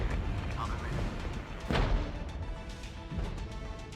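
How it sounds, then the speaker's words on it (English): Artillery shells land in a Cold War tank strategy game with heavy rumbling booms and crashes, mixed with low background battle noise. "I've got artillery landing on this Conqueror's unit back here"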